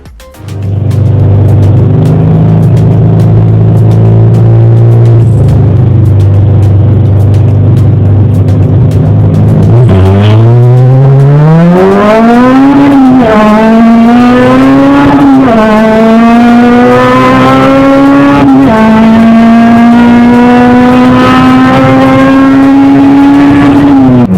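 A Jackson Racing supercharged Honda Civic EP3 races on track at Croft, its engine loud and close, droning at steady revs, then repeatedly climbing through the gears with sharp upshifts and sustained high-pitched wails.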